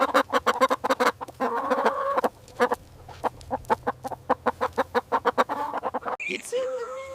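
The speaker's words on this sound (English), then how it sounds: "It's a chicken." A chicken clucking in a rapid series of sharp, evenly spaced clucks that run for several seconds, heard close and fairly loud, with a few higher calls near the end.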